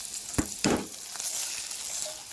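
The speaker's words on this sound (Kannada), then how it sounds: "ಕ್ಯಾಪ್ಸಿಕಮ್ಮು ಎಣ್ಣೆಯಲ್ಲಿ ಚೆನ್ನಾಗಿ ಫ್ರೈ ಆಗಿದೆ ಇವಾಗ ನಾನು ಪನ್ನೀರ್ ಇದಕ್ಕೆ ಹಾಕ್ಕೊಳ್ತೀನಿ" Capsicum and paneer fry in oil for a paneer gravy, giving a steady close sizzle with two quick bursts of louder spattering as pieces are stirred in.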